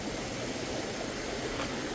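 Steady rushing of a river flowing past a tree farm campsite in Bailen, Cavite, a continuous broadband wash with no voices, moderately close and even in level throughout.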